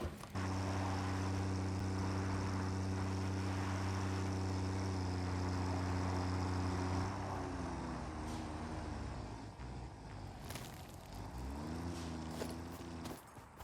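A tractor engine in the video game Satisfactory holds a steady, loud droning hum, then shifts pitch as it drives off, with clanks and knocks toward the end.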